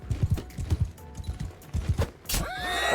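Horse in the Bannerlord video game galloping with quick thudding hoofbeats, then a high whinny rising near the end amid battle noise.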